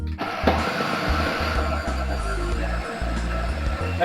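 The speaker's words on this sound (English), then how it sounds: "the blender's blending away" A kitchen blender whirs as it purees chickpeas and other hummus ingredients, a steady close motor hum with the pitch wavering slightly as the contents churn, heard alone without voices.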